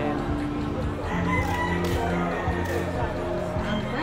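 Chickens cluck and a rooster crows at an expo, amid a busy, noisy background of people and steady hum.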